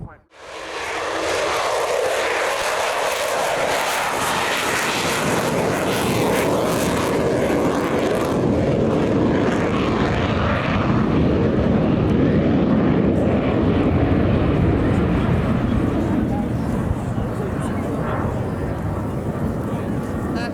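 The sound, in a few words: military aircraft flying at an air show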